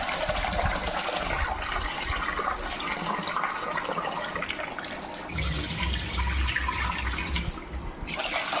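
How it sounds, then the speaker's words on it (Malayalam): Water is poured over rice in a vessel to soak it for dosa batter, giving a continuous splashing, gushing pour close by that surges louder toward the end, with no talk. "വെള്ളം ഒഴിച്ച് കുതിർക്കാൻ വെക്കണം"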